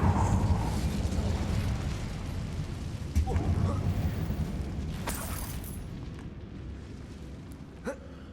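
A fire spell is cast in Hogwarts Legacy inside an abandoned mine: a sustained roaring, crackling burst of flame that fills the space loudly, then slowly fades with a few small pops near the end.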